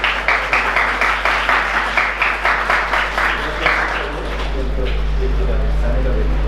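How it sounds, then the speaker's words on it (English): A crowd claps steadily for a few seconds, then the applause fades into a low, steady background hum. "Can we have a round of applause?"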